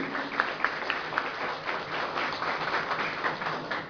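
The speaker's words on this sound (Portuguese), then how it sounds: "Uma salva de palmas para Jesus." A church congregation claps together in a dense, continuous round of applause with a few sharper claps, slightly muffled and steady for the full few seconds.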